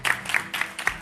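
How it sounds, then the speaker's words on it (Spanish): A studio audience on a Spanish afternoon TV show claps for Tony in several short, separate bursts of about a second each, fairly quiet and close. "Un aplauso para Tony, hombre."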